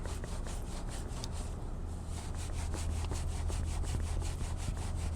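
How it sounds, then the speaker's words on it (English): A Rimpaca wheel brush scrubs brake dust from the inner barrel of a car wheel, a close, steady back-and-forth rubbing in quick even strokes. "just by me rubbing the barrel of the wheel, I am removing tons of brake dust that is living back there"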